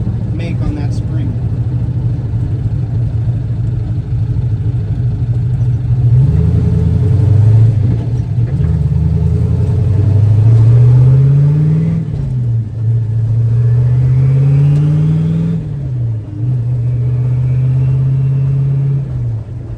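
A turbocharged Foxbody Mustang engine runs loud and close, idling with a low rumble and then revving up in several rising sweeps, with a faint turbo whistle riding over the revs.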